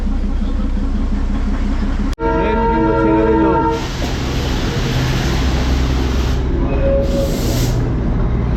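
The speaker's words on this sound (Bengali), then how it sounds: "ট্রেন কিন্তু ছেড়ে দিল" The Darjeeling Himalayan Railway toy train pulls away from a station. A sharp click is followed by a loud, sustained whistle blast, then the train rumbles and hisses along steadily.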